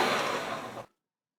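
A blender pulses flour, salt and butter for pastry dough, one short steady whirring burst lasting under a second that stops abruptly into silence.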